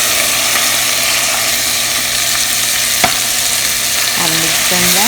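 Potatoes, green chilies and onions sizzle loudly in hot oil while being stirred, a steady close frying hiss with a few scraping clicks of the utensil against the pan near the end, no talking.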